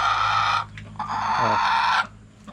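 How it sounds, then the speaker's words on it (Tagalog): Close-up layer hens about to lay eggs give drawn-out, throaty clucking calls, two long nasal cries with a short break between them. "Pag ganyan na yung huni nila guys, talagang mangingitlog na sila"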